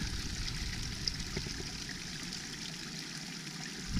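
Water flows and trickles steadily in a nearby stream, a constant gentle rushing with small splashes and no voices.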